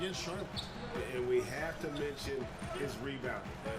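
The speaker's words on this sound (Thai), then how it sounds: "บอลกระเด้งไปไกลเหลือเกิน" In NBA 2K18 on PS4, a basketball bounces repeatedly on a hardwood court during play, the dribbles mixed under crowd noise and someone commentating throughout.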